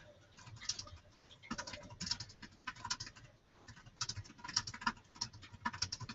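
Rapid typing on a computer keyboard, with irregular bursts of key clicks separated by short pauses, close and fairly quiet, with no voices.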